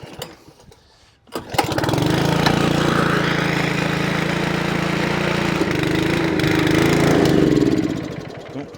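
A Lawnflight 553 HRS Pro ride-on mower, unrun for about a year and a half and started on choke, catches after a brief crank and runs steadily and loudly for several seconds before cutting out on its own.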